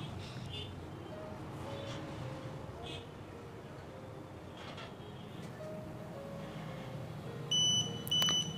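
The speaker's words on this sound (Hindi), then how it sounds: "इसमें एक बीप आएगी, आपको पता लग जाएगा ये एक्टिव हो गया" Security alarm system arming when locked by remote, giving short high beeps near the end, two brief loud bursts over a steady background hum and distant voices.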